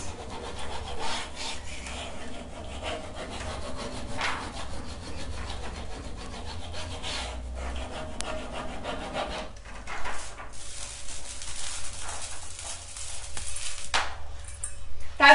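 Close up, the backing of a Prima "Botanical Rose" decor transfer is rubbed off a furniture piece. A continuous dry, scratchy friction sound holds steady for the whole stretch, with small surges and no clear speech.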